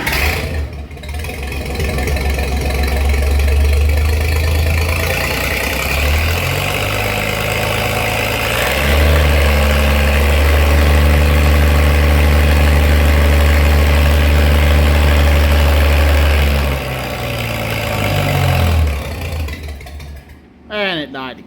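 A cold 2-70 tractor engine idles loud and close with a deep, steady throb, surging and changing pitch a few times before stumbling and dying near the end, with someone talking over it.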